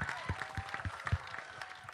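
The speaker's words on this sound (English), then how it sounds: "So big round of applause for Ajay, please." Audience applause for actor Ajay Devgn at a film trailer launch, a short burst of scattered hand claps from a crowd, moderately faint and fairly even.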